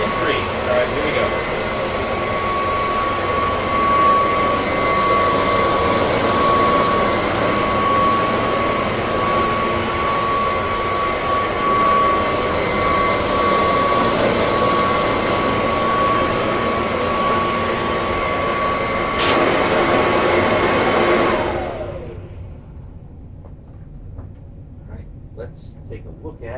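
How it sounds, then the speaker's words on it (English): A Kirby Dual Sanitronic 80 upright vacuum runs steadily on carpet with a loud, continuous whine and roar for about twenty seconds, then switches off and winds down into near quiet. "Let's go ahead and use the very old but super shiny dual Sanitronic 80."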